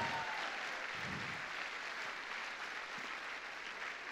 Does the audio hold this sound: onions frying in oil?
no